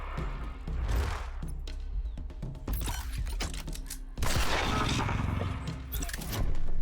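Gunfire in the alien-world survival RPG Dead In Antares comes in several loud bursts and volleys, separated by brief lulls and mixed with mechanical clatter.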